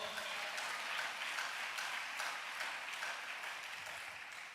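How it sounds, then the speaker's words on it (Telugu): A church congregation claps together in a steady, dense wash of applause that holds evenly for several seconds before easing slightly at the end, with no talking over it. "కొట్టు చప్పట్లో."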